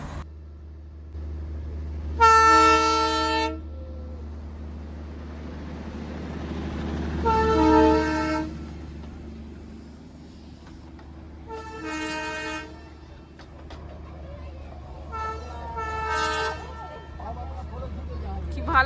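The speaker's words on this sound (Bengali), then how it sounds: "এই যে নিচে দিয়ে যাচ্ছে টয় ট্রেনটা" Darjeeling toy train passing through the Batasia Loop, its horn sounding in several loud, separate toots across the clip over a steady low rumble of the moving train, with outdoor crowd noise beneath.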